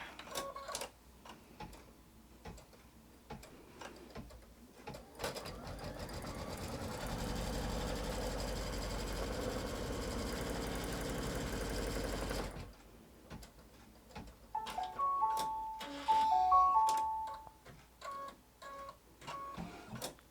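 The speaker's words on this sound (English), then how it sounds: "give it a little finger press, and stitch" Sewing machine stitching fabric in an embroidery hoop for an in-the-hoop quilt block, a steady mechanical whir running for several seconds, with ticking and light handling clicks around it.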